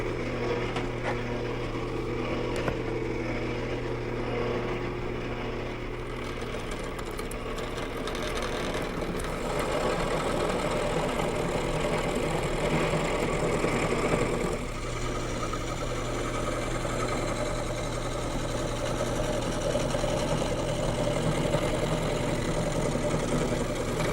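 A wood lathe runs steadily while a gouge roughs a spinning blank round, giving a continuous humming drone with a scraping, textured cutting noise layered on top throughout.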